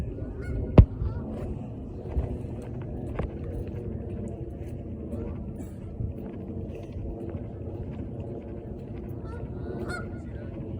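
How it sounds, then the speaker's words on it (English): Geese honk repeatedly in an outdoor area, their calls carrying over steady low rumble of traffic or boat noise, with one sharp loud knock near the start. "even the geese hang out"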